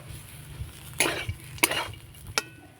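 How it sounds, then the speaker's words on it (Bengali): Potato masala filling sprinkled with chopped coriander leaves being stirred in a pan, three sharp spoon scrapes and clinks over a low background rumble. "এবার উপর থেকে ছড়িয়ে দিব ধনিয়া পাতা কুচি দিয়ে একটুখানি নাড়াচাড়া করে নামিয়ে নেবো"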